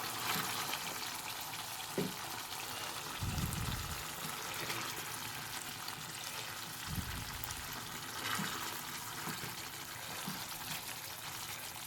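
Chicken pieces dropped into simmering masala gravy in a pan for chicken shawaya, a steady faint sizzle and bubbling with a couple of soft low plops.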